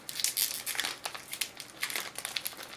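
Crinkling foil of a Star Wars Destiny Spirit of Rebellion booster pack being torn open, close and quiet, with irregular crackles and rips.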